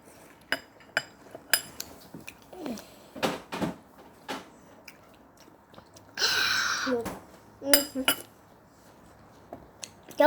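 Watermelon is eaten up close: scattered crisp, wet bites and chewing sounds with quiet pauses between them, plus a brief rustling burst partway through.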